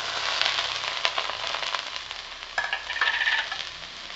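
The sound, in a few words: onion, garlic and ginger sautéing in oil in a pan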